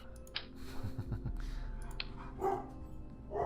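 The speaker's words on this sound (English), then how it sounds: "my dog's making noise, I think" A dog making noise in a quiet room, faint short barks and yips in the background, with light clicks over a low hum.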